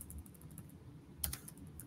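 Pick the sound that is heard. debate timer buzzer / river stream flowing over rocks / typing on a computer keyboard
typing on a computer keyboard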